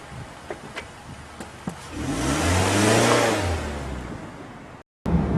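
Mazda MX-5 Miata roadster driving with the top down, engine swelling into a loud, rising pass with a sweeping pitch shift around the middle, then easing back to a steady hum before a brief cut.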